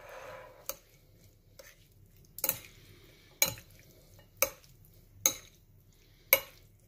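Shredded stem lettuce being mixed with sesame oil in a bowl, heard as a few distinct, evenly spaced clinks and scrapes of utensils against the dish at close range, with quiet pauses between and no talking.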